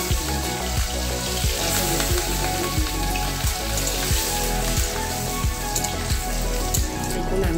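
Chillies and chicken frying in a pan for a home-style chilli chicken, a dense, steady sizzle close by with faint regular scraping or stirring knocks running under it.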